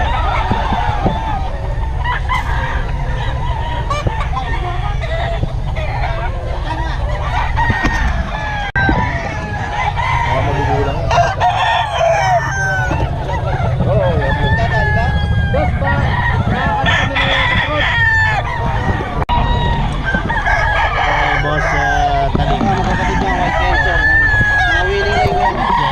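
A young rooster, a stag, crows several times close by amid a busy rooster-selling scene. Hens cluck, people talk, and traffic hums in the background.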